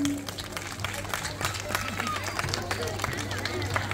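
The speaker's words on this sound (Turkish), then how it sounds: "Eller havada şöyle bir teşekkür alkışı yapalım." Children clap together in a thank-you round of applause at a children's contest, a busy, scattered patter mixed with shuffling and lively babble, while a low steady hum runs beneath.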